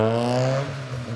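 A car exhaust revs loudly and close by in a parking structure, a brief steady engine drone with strong harmonic tones that dips slightly before rising again, no talking.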